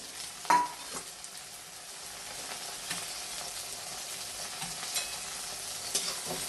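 Chopped green chilies, with ginger and garlic, fry in a pan for a quick lemon pickle. A soft, low sizzle runs throughout, with an occasional light clink and scrape from stirring and no talking.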